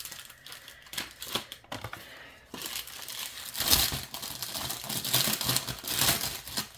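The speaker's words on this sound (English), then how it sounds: "sorry for the paper noise" Paper crinkles and rustles as mail is handled, a close, busy run of crumpling and tearing-like bursts that grows louder toward the end, with no voice.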